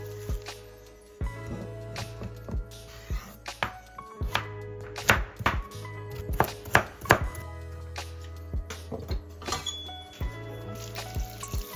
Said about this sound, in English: I am starting by cutting cabbage and carrots.